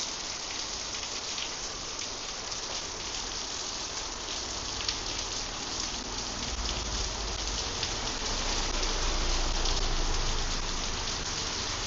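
Steady rain pours continuously on a surface during a morning walk in Kathu, Phuket, a dense even hiss that swells slightly louder near the end, with no voices.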